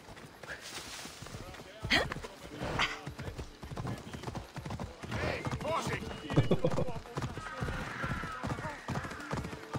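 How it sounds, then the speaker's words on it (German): Horse hooves clip-clopping in Assassin's Creed Odyssey, a steady run of hoofbeats on the ground with a whinny, while someone talks over them throughout. "mein Pferdchen kommt hoffentlich wieder von vorn"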